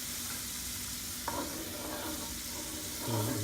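Wine for chicken Madeira boiling and sizzling in a pan, a steady close bubbling hiss with a brief utensil scrape partway through and a louder stir near the end.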